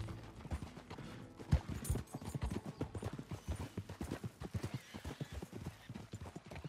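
Horse hooves in the video game Red Dead Redemption 2: a steady, rhythmic clip-clop of a ridden horse, fairly close and moderately quiet, continuing throughout without talk.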